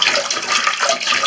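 Water poured into a toilet cistern, a loud close rushing splash with gurgling, continuous for the whole short stretch with no voices.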